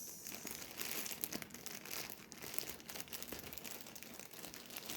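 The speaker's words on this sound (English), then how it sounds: "It's really well packed for the crinkling noise." Plastic bag packaging crinkles and crackles steadily as a Herrschner's yarn order is unbagged, a close, busy rustle of sharp snaps lasting throughout.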